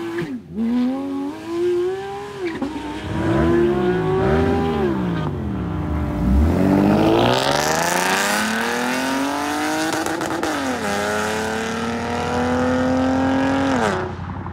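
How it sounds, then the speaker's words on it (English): A Porsche 911 GT3 launches hard, its loud exhaust revving and climbing through several sharp gear changes, close by and dominating, with rising and falling engine pitch over about fourteen seconds. "Harry wants to launch his car and get another clip of the exhaust"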